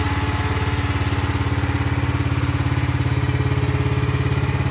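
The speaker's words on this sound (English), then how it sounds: "So I'm going to start the engine here." An engine starts and then runs at a steady idle, giving a loud, continuous rhythmic chugging throbbing close by, with no talking over it.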